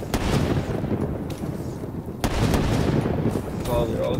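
Sniper rifle shots in the video game Call of Duty Black Ops 3 crack out as a few sharp reports among busy game noise, loud and close.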